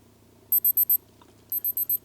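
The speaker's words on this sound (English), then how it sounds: "And it's not a very loud alarm, but it does get your attention." A Casio G-Shock GMW-B5000GD watch timer alarm gives two bursts of four quick, high-pitched electronic beeps, thin and fairly quiet, over a low background hum.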